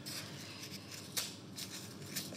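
Scissors snip through a paper cartouche for a pan, a few crisp cuts close by over a steady rustling background.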